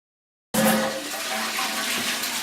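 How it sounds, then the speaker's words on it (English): A toilet flushes in a treatment facility, starting abruptly after a moment of silence with a loud rushing gush that settles into a steady draining and refilling hiss. "Flushing."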